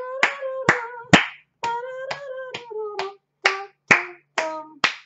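Hands clapping a steady beat in two groups of about five or six crisp, close claps, separated by short silent gaps, as percussion for the folk tune Old Joe Clark.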